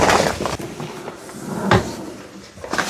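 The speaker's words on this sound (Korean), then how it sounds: "창문을 열고" In a guesthouse room being cleaned, a window is slid and pushed open to air the space, giving close scraping and knocking clunks, with a sharp bump partway through.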